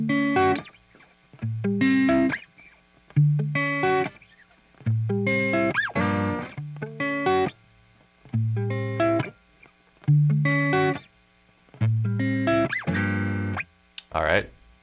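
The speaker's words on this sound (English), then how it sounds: "I'm just going to play a little something so you guys hear the actual guitar sound." An electric guitar played through an amp, with repeated distorted chords and short phrases separated by brief gaps in a loose demo rhythm, close and loud, ending in a quick burst of notes.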